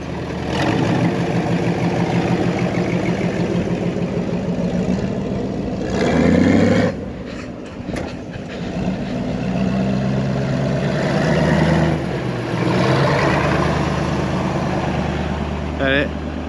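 A truck engine idling outdoors, a low, continuous rumble that holds steady throughout, with voices talking over it at times.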